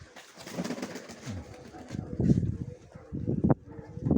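Pigeons coo in low, throaty bursts, close by, with a rustling background and some indistinct voices mixed in.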